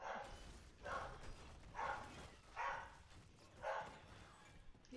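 Dogs bark in a basement, five evenly spaced, muffled barks that come faintly through a floor or door.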